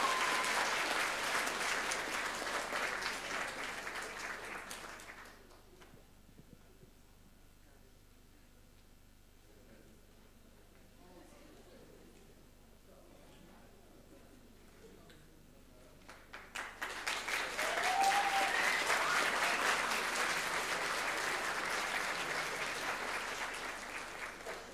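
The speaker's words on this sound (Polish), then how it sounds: "Brawa, naprawdę zasłużone." Audience applause at a theatre and film competition award ceremony: loud, sustained clapping from a full hall for about five seconds, then a quiet lull, then a second strong round of applause that carries on to the end.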